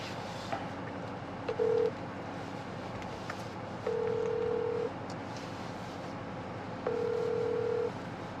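A phone call being placed: a short tone followed by a steady ringback tone pulsing three times in roughly one-second bursts, moderately loud over a faint background hiss, with no talking.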